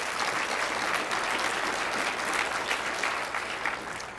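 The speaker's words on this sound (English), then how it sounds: "So give yourselves a big round of applause for that." An audience at an executive forum on diversity and inclusion bursts into dense, sustained applause, a full steady wash of clapping that eases slightly toward the end.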